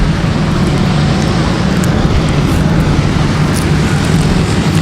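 Racing karts in the SODI World Series international final roar past on the track, a loud, dense, continuous engine drone that fills the whole stretch without letting up, with no talking.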